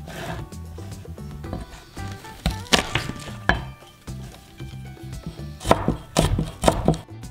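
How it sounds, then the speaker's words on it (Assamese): A knife chops garlic finely on a board in irregular bursts of sharp knocks, some quick runs of taps and some single strikes, close and fairly loud, with no talking. "আৰু এই নহৰুখিনি একেবাৰে মিহি মিহিকৈ কুটিব লাগিব"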